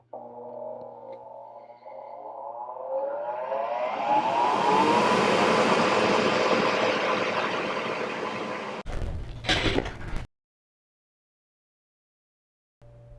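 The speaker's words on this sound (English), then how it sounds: "This is the exhaust fan that's included with the unit" Exhaust fan supplied with a laser cutter switched on and spinning up, a steady whooshing hum that climbs in pitch and loudness over several seconds, then runs loud and even before a few knocks and a cutoff into silence.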